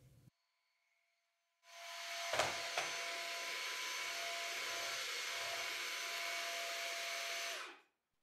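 A Levoit LVAC-300 cordless vacuum cleaner starts up and runs with a loud, steady whoosh for several seconds, a couple of sharp clacks near the start as leaves are sucked in, then cuts off; no one talks.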